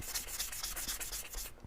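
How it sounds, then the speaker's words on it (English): Hand sanding of a sprayed finish with 1000 grit sandpaper, a steady run of close, rhythmic scratchy rubbing strokes, about eight quick passes that stop near the end. "This is 1000 grit sandpaper, which is just right for kind of finishing off the surface."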